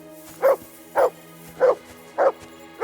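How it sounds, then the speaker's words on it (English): A dog in the video game Kingdom Come Deliverance 2 gives four evenly spaced, fairly loud barks about half a second apart over a low steady game background hum. "Good dog, Mats."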